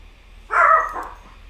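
A single short, sharp yappy bark from a small Pomeranian dog indoors, close and clear against a faint low hum.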